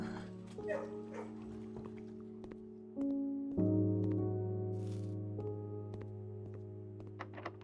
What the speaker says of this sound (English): Pet dog.